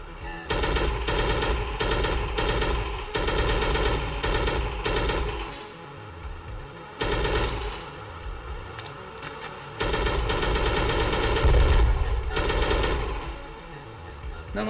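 Rapid machine-gun fire while shooting bots in the video game Cactus Cowboy 3, loud bursts of automatic shots in several long volleys separated by brief pauses, over a backing music track.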